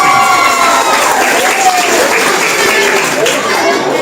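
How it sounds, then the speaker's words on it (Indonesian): High school students on a museum visit applauding together, a dense round of clapping mixed with crowd chatter and voices throughout. "ya tepuk tangan dulu"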